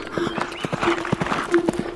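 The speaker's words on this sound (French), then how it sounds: "Fais le cheval blanc qui galope face au vent." Rhythmic horse hooves clip-clopping at a steady gallop pace, with a faint whinny-like tone, heard in a children's nursery rhyme about galloping horses.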